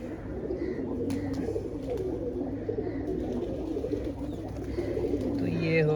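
Pigeons cooing in a loft during the rainy season, soft repeated low coos under steady background noise with faint chirps and a brief voice.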